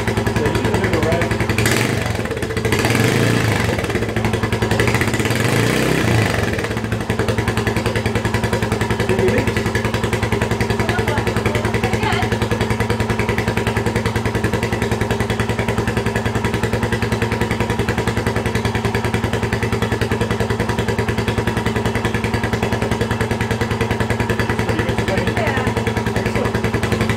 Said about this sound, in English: can you start the bike for us?